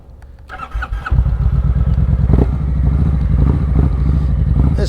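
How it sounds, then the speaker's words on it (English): A touring motorcycle fitted with an aftermarket exhaust cranks over briefly, then fires and settles into a loud, steady, rumbling idle close by. "there's a aftermarket exhaust on here. Sounds pretty good, a little loud"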